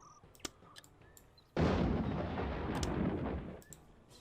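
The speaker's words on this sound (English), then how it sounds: "Got a few hits in there with my cannon, as well as my crossbow units." Cannon fire strikes in the Warhammer Dark Omen battle game: after faint scattered clicks, a single loud, heavy blast bursts out, then rumbles and decays for about two seconds before fading back to quiet.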